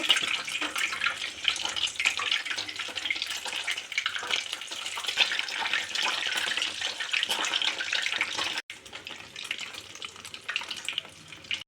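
Chhana cheese curds fry in hot oil with a steady, dense sizzle and crackle, a continuous bright hiss that holds throughout and dips briefly near the end before resuming.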